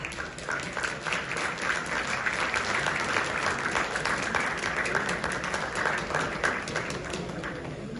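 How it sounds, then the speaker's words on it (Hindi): Audience applause at an award ceremony for a workers' party chairman in Gilgit-Baltistan, dense steady clapping from a large crowd lasting the whole stretch, even and sustained without pauses. "तालियों में स्टेज पे तशरीफ ले आए और अपना अवार्ड रिसीव करें।"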